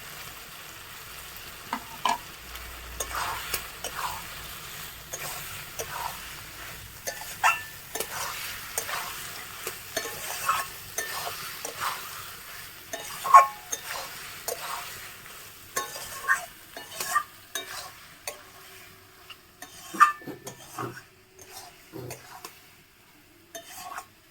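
Boiled green jackfruit tossed into a pan with bay leaves and stir-fried, with a spoon scraping and clinking against the pan in irregular strokes over a soft sizzle, close by and moderately loud.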